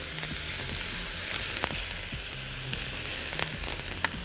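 Onions sizzle in olive oil in a pan, a steady moderate frying hiss with scattered utensil clicks and stirring taps throughout.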